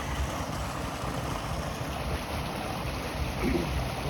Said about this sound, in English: Here's one of the first little waterfall type.